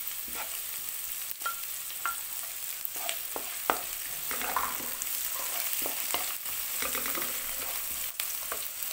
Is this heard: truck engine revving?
no